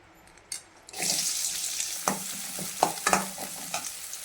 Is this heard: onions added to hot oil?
yes